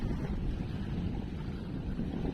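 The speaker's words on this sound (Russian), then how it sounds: "С утра на реке тоже ветрено" Steady wind buffets the microphone with a constant low roar over a Siberian river, mixed with faint water sounds, and no voices.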